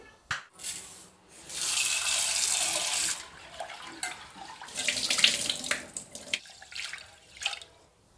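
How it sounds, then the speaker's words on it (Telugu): Tap water runs into a sink while brown rice is rinsed for a lunch box, bursts of splashing flow stopping and starting, with soft handling of grains and pot, close and fairly quiet. "నేను ఇక్కడ మా పాపకి రైస్ కడిగి పెడుతున్నాను లంచ్ బాక్స్లోకి"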